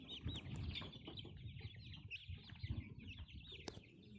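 Busy chorus of month-old Dekalb Brown and Rhode Island Red cross chicks peeping and clucking, many small overlapping calls close by, with soft scuffling and thumps underneath.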